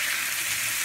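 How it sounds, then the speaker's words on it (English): Food sizzles in a hot pan for nachos, a steady, close frying hiss that carries on unbroken for a brief moment with no voices. "Get the sizzling."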